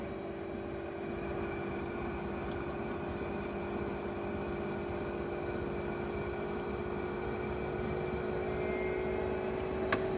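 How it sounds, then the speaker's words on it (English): An LG top-load washing machine in test mode spins up toward maximum rpm, giving a steady, even motor drone with a faint high whine that holds constant throughout, with no voices. "Now increasing rpm, you can see, you can find it will take maximum rpm."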